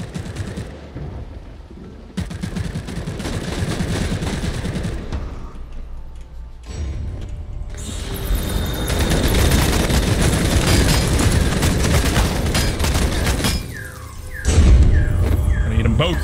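Gunfire in the video game Vampire: The Masquerade – Bloodhunt, bursts of shots and booms rising into a dense, loud barrage, with a sharp heavy blast near the end.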